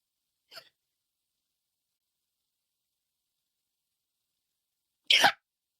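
A single sharp, loud sneeze bursts out near the end after a long stretch of silence, preceded by a brief faint sniff or catch of breath.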